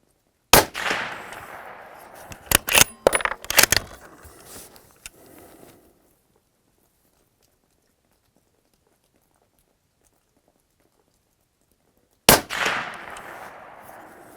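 Suppressed shots from a Ruger Precision Rifle in 6.5 Creedmoor fired outdoors, a sharp report with a short decaying tail early on, a few smaller clicks, a long quiet gap, then a second loud shot near the end.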